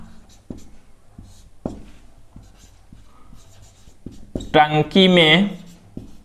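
A pen taps and scratches in short, irregular strokes while a class 9 maths solution is written out; the strokes stay soft and close, and a voice briefly speaks near the end.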